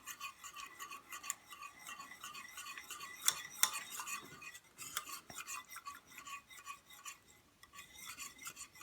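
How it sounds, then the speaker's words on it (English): A spoon scrapes and rasps steadily around a bowl as maple syrup pie filling is slowly stirred. The scraping is close but quiet, with a few sharper clinks, and no one speaks. "And slowly stirring it in so it mixes well."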